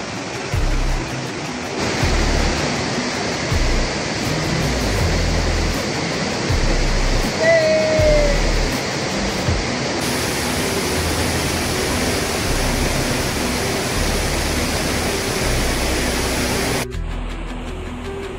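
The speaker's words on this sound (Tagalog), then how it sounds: "Finally, we have reached the majestic Casaroro Falls." Casaroro Falls, a roughly 30-meter waterfall in Valencia, Negros Oriental, pours with a loud, steady broadband roar throughout, with occasional faint voices and a brief bird call buried in the rushing water.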